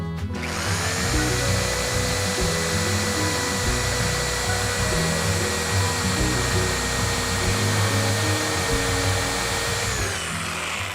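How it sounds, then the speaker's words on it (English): Jigsaw cutting through 2x12 lumber for a deck stair stringer, a loud continuous buzzing whine with rapid chattering strokes that runs steadily for about ten seconds before stopping. "So we'll just finish that corner there with a jigsaw."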